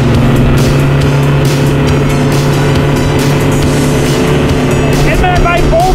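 A motorboat engine drones loud and steady throughout a winter pike-fishing outing with baitfish, a constant close roar with wind and water noise and a person talking over it.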